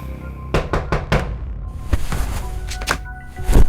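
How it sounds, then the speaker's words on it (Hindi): Sharp knocks on a door come in a quick run of four raps, then a few scattered louder knocks follow, close and distinct in a quiet room. "तभी उसको अपने दरवाजे पर एक दस्तक सुनाई दी"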